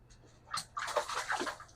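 Crappie fish are released back into a Minnesota lake, a short burst of close splashing and sloshing water lasting about a second, with no talking.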